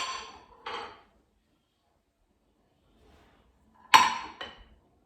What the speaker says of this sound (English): So cover it with another plate and flip.